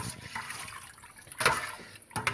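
Water is poured from a jug into a pot of Syrian-style bean stew, with soft splashing and gurgling rising in brief louder bursts over a quiet kitchen background.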